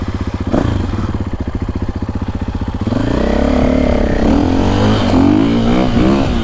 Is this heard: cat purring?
no